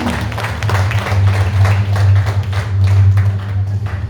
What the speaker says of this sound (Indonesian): Mari Bapak Ibu kita sambut dengan tepuk tangan yang meriah Bapak Rahmat Budiansa di tengah SPMR.